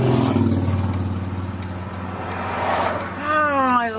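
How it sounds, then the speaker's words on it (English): Road traffic rumbles past a pulled-over car, with a steady low engine drone and a vehicle rising in pitch as it accelerates by near the end. People talk in the background. "there's a lot of traffic here."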